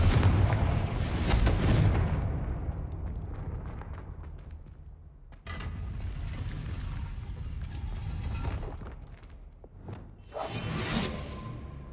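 In the Hogwarts Legacy game, a Confringo fire spell sends out booming blasts with whooshing bursts, a loud impact first, then another blast and a later swoosh over a fading rumble.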